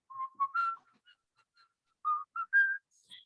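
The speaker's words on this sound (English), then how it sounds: "I started whistling." A man whistles a short, halting tune of a few clear notes with brief pauses between phrases, close and alone.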